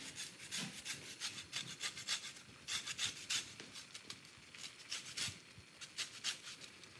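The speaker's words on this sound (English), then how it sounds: "I like the freshness of some lemon zest, so I put a little of that in." Lemon zest is grated over whole wheat pasta vongole with cockles, a dry rhythmic rasping of peel against a grater in quick repeated strokes, close and fairly quiet, with no talking.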